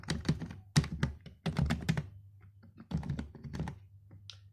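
Computer keyboard typing, close-up bursts of quick key clicks and thunks in short clusters separated by brief pauses, no talking.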